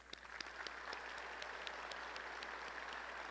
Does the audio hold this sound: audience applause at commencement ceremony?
yes